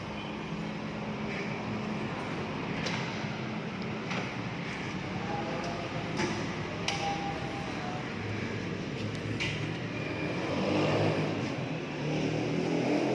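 Steady rumble of highway traffic heard from indoors, with vehicles passing and an engine swelling louder near the end, a continuous low drone throughout.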